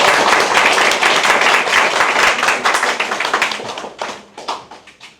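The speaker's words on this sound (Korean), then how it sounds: "박수 한번 쳐주십시오." An audience claps at a political party launch event in a hall, a dense burst of applause that thins into scattered individual claps and fades out over several seconds.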